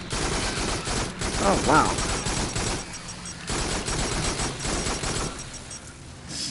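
Rapid bursts of gunfire from the Farpoint video game, dense and loud over several seconds with a brief lull in the middle, and a short spoken exclamation partway through.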